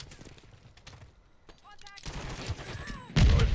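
An AR fires in a first-person shooter video game, with scattered sharp gunshot bursts mixed with game effects and a voice talking, ending in a loud close volley.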